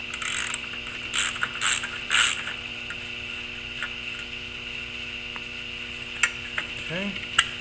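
Ratchet clicking as a bolt is loosened from a Camaro seat track, a few short bursts of mechanical clatter near the start, then quieter fiddling and faint clicks over a steady hum.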